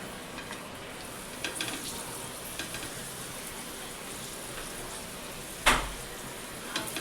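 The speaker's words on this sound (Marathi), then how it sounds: "हा पापड ह्याच्यात दाबून दाबून ह्याला चांगला भाजून घ्यायचं असं" Papad is pressed down and roasted in shallow oil in a pan, giving a quiet, continuous sizzle with light scraping taps and one sharper crackling burst partway through.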